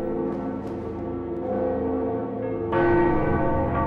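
A deep, resonant bell of awakening from Dark Souls tolls with long sustained ringing overtones that swell louder near the end, heard alone without any voices.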